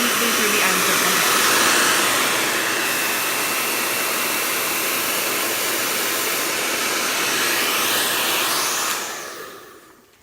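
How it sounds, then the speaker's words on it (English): A handheld blow dryer drives a loud, steady broadband whoosh while hair is pulled through a round brush toward the ends, running continuously before cutting off near the end. "Make sure that your bristles are taking the hair with the blow dryer completely through the ends of the hair."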